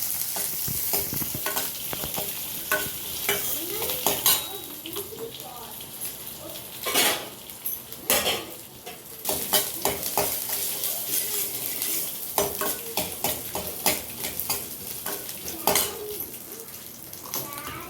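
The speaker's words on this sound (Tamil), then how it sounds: "அதே எண்ணெயில் பூண்டு, இஞ்சி நல்லா ஃப்ரை பண்ணிக்கலாம்." Garlic and ginger frying in hot oil in a pan, a continuous sizzle with frequent scraping stirs and utensil clinks against the pan, close and steady throughout.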